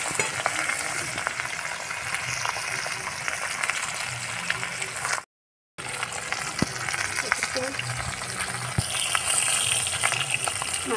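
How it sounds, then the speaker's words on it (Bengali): Katla fish frying in hot oil, a loud continuous crackling sizzle with spattering, broken by a brief silent gap midway before the frying resumes. "আর মাছটা দিয়ে দেবো, তেলটা গরম হয়ে গেছে।"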